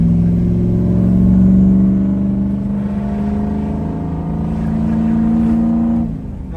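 A loud, deep 6.0 Powerstroke diesel truck engine drones steadily under load through its exhaust, its low harmonic rumble rising slightly in pitch before easing off near the end.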